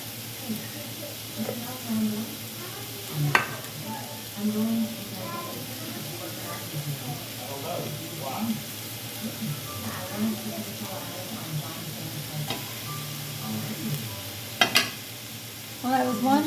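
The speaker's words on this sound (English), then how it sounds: "right now I'm just stirring everything up, giving these onions a chance to caramelize" Onions and hamburger meat sizzle in a pot at a camp stew cookout, a low steady frying hiss with occasional utensil clinks and scrapes from stirring, while someone talks over it.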